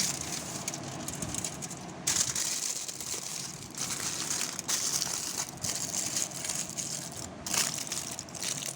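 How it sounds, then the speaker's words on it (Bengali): Aluminium foil is crinkled and folded around a homemade chicken shawarma roll, producing a continuous close crackling and rustling with brief louder crunches throughout and no talking. "এখন আমি ফয়েল পেপার দিয়ে আমি এভাবে মুড়িয়ে নিব।"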